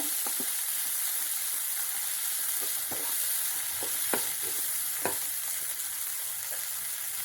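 Mashed potatoes and green peas being stirred and fried in a pan, a steady low sizzle broken by repeated scraping strokes of a spoon, close and moderate in volume.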